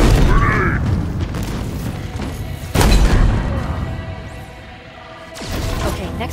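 Several heavy booms go off in Halo Infinite combat, grenade blasts hitting at close range with sharp, loud onsets that ring out and overlap with mechanical noise and occasional voices.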